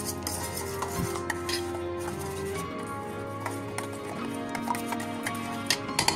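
Pizza sauce seasoned with oregano, garlic and salt is stirred with a utensil, producing light clinks and scrapes against the container over background music.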